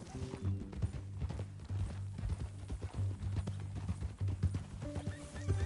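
Steady clip-clop of horse hooves runs throughout the Red Dead Redemption 2 video game, with a brief whinny and low sustained background tones.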